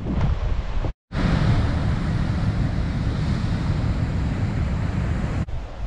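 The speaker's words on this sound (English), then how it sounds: "you can hear the waves crashing against the rocks" Waves crash against rocks on the beach at Crazy Head Bay near Lambert's Bay on South Africa's west coast, a loud continuous roar of surf with heavy wind rumble and one brief cut near the start.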